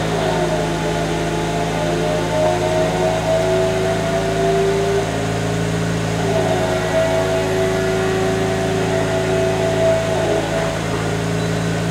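Steady mechanical whirring and motor hum continue throughout as a Daihatsu Copen's electric folding roof closes, with a couple of rising whines, no voices.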